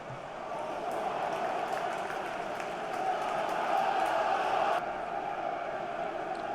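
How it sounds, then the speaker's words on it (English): A stadium crowd in Football Manager 2023 chanting olés during a Champions League match against PSG, a broad sustained roar that swells a little midway and then eases back slightly. "I'm getting a lot of olays from the crowd already"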